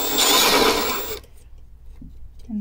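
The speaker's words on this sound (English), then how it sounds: "I am just going to spin this and put my sandpaper on that commutator, try to clean some of that carbon off of there." An electric motor from a White 173 sewing machine spins fast with sandpaper pressed on its commutator, a loud steady whirring buzz for about a second before it cuts off, leaving near silence and a few small clicks.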